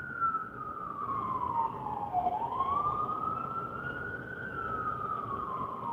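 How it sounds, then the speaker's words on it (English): A police siren wails, its pitch sweeping down and then back up in a slow arc, carrying steadily on its own without any talking. "Do you hear the police siren?"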